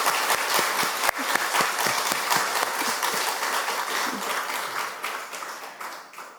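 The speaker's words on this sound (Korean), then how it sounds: "우리 예지자매를 위해서 한 번 더 박수 좀." A church congregation at a Sunday service claps together in a dense, lively round of applause that gradually thins and fades toward the end.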